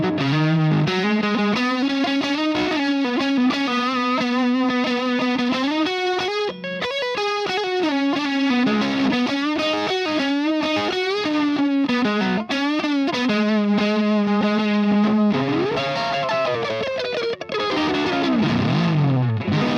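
An electric guitar runs through a fuzz pedal and a UniVibe chained together, its guitar volume at 7, playing a loud, continuous, heavily distorted solo line with a swirling, pulsing vibe throb.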